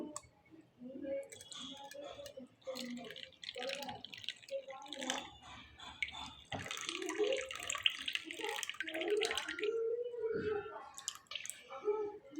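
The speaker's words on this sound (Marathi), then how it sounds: "काढण्याच्या सहाय्यानं हे चहाचं पाणी गाळून घेऊ" Brewed tea water trickles and drips through a strainer while a voice talks over it.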